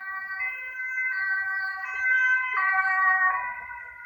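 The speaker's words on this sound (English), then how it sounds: "there's an ambulance coming by" An ambulance siren passes by, its wailing tone rising and shifting pitch in steady cycles, loud and continuous over faint low traffic rumble.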